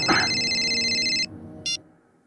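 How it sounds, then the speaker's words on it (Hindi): A phone ringtone sounds as a steady electronic tone for just over a second, then one more short ring follows after a pause, fairly close and without talk. "फोन को भी इसी टाइम बजना।"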